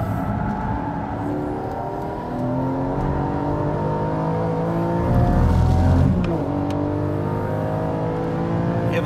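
A Porsche 718 GTS 4.0 laps a race track with a close, loud engine drone that climbs steadily in pitch, dips at gear changes and swells to a stronger roar before easing off again.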